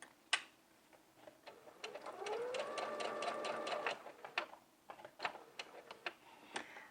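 A sewing machine runs a burst of rapid, even stitches along a jumpsuit seam line for about a second and a half, with scattered handling clicks and taps before and after.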